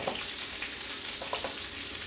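Beef short ribs brown in a pan with a steady, close sizzle and crackle of frying fat, continuous with small pops and no talk over it.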